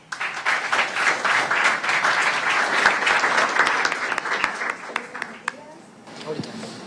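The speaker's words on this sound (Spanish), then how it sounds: "Damos un caluroso aplauso." Audience at a Spanish Language Day school celebration gives warm applause, a full, steady round of clapping that fades near the end as a voice begins speaking.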